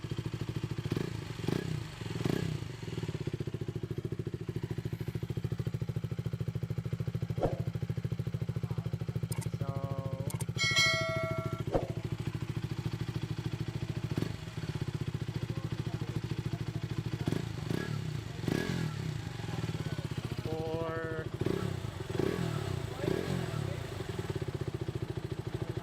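KTM Duke 200 motorcycle fitted with an Akrapovic titanium slip-on exhaust, idling with a steady low rumble and briefly revving a few times, sitting fairly near throughout.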